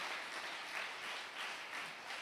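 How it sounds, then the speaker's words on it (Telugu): A church congregation claps during a Sunday sermon, a steady, fairly faint wash of many hands with gentle swells, heard alone without talk. "కొట్టండి చప్పట్లు."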